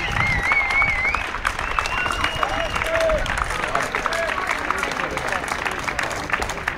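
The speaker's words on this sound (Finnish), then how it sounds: "Hyvät naiset ja herrat, hänelläkin lämpimät onnittelut ja kunnon taputukset." Spectators applaud and cheer as the second-place runner crosses the finish line at the Helsinki City Marathon, sustained crowd clapping with a public-address announcer talking over it and a few whistles.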